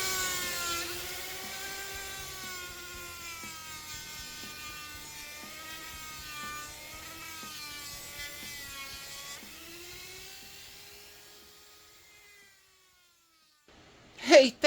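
A high-speed rotary tool running around 22,000 RPM whines as it polishes the frets of a Fender Squier Affinity Telecaster, its pitch wavering under load before fading out, followed by a short loud knock at the end.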